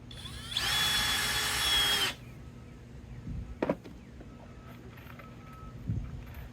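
A power drill drives 1 1/4 inch screws into half-inch pressure-treated fence pickets for a bottomless planter box, one loud whirring burst of about a second and a half, followed by quieter knocks and handling thuds.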